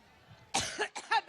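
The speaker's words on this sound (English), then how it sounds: "she had an extended coughing fit" A woman's coughing fit: several harsh, close coughs in quick succession after a quiet stretch, growing into a rough, broken rhythm.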